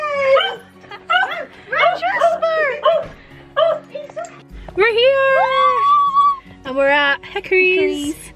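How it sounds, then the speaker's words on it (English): A small dog indoors behind a front door yips, whimpers and barks excitedly in quick, high-pitched bursts, loud and close, with a voice speaking briefly in between. "Just knocked on the door. I hear Jasper barking"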